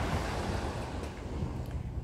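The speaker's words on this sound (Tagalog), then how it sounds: "Ang tunog ng alon." Sea waves at Repulse Bay beach in Hong Kong, a soft continuous low surf rumble with some wind noise, fairly faint and with no voices.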